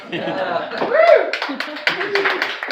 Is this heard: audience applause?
yes